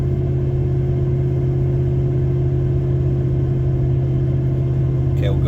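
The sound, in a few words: car engine during gentle acceleration uphill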